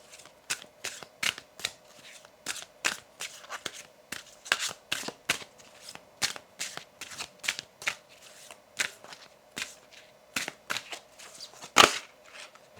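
Oracle cards of a mythological deck being shuffled by hand, a run of quick, crisp riffling bursts repeated in a steady rhythm, close and fairly quiet, with one sharper snap near the end.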